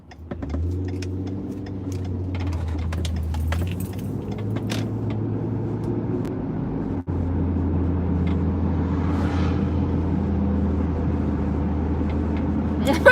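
Six-cylinder four-wheel-drive vehicle engine while driving through a park with the windows down, a steady low rumbling drone with some rattling and jangling, growing slightly louder and rougher in the second half.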